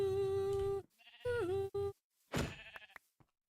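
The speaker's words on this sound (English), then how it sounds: "What is that? It's a chocobo." A chocobo in modded Minecraft (Enigmatica 10) lets out a few short bleating, warbling calls with a pitch dip in the middle, followed by a brief noisy burst, all alone with no talking.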